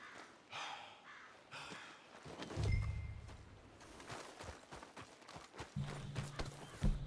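Hooves of a horse clip-clop in the Red Dead Redemption 2 game world, with irregular footfalls and thuds close by, low rumbles and a crow cawing in the background, and no talk over it.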